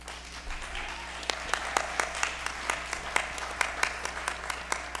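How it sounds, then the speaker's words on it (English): An audience at an Indigenous Peoples Summit afternoon panel gives a round of applause, a steady patter of many hands with sharper individual claps popping out, moderately distant, over a low steady hum. "Give him a round of applause."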